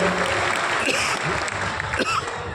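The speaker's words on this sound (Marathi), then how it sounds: "त्यांचं एकदा जोरदार टाळ्या वाजवून आपण या ठिकाणी स्वागत करूया." Loud, sustained crowd applause at a public event welcoming a guest, with dense clapping filling the whole stretch and some voices mixed in.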